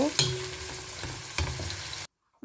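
Onions frying and browning in a pan give a steady close sizzle with a few light stirring clicks, lasting about two seconds before cutting to silence.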